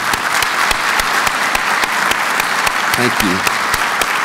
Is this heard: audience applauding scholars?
yes